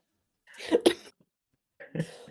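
A quick double cough followed by a pause and then one more cough, close and fairly loud against silence.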